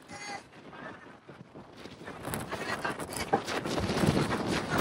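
Gusty wind on Brahmagiri mountain near Trimbakeshwar, Nashik, buffets the microphone in a rough, rushing roar that builds louder over a few seconds.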